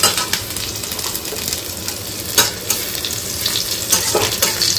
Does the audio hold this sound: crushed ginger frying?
yes